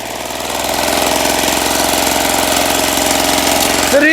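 An old walk-behind tractor engine chugs and rattles steadily up close, a rough idling rumble with a knocking vibration, rising slightly at the start.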